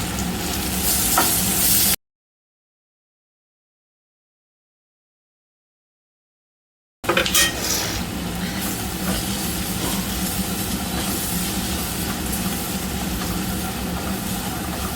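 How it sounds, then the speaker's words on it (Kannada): Lemon rice seasoning with turmeric frying on a low flame, a steady sizzle with faint stirring that is interrupted by a stretch of silence, then resumes at the same even level. "ಸ್ವಲ್ಪ ಸಣ್ಣ ಉರಿಲಿ ಫ್ರೈ ಆಗ್ತಾ ಇರಲಿ"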